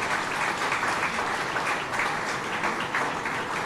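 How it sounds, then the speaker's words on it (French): Steady, even applause from a ceremony audience honouring national exam laureates, a continuous crowd clapping throughout with no pauses, heard at a moderate distance. "Applaudissez-les à nouveau,"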